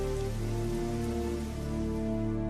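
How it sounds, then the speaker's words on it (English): Steady rain, standing in for liquid methane rain on Titan, gives a dense continuous patter under a sustained low musical drone, with no talking. "Liquid methane, it seems, rains down on Titan"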